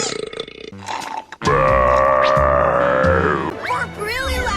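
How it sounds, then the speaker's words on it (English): A loud, long cartoon burp rumbles for about two seconds with a strong tonal, voiced roar, followed by short vocal sounds and squeaky cartoon effects. "Burp really loud."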